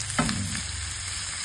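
Shrimp frying in a pan, stirred once, giving a short scraping stir over a steady, close hiss of sizzling oil.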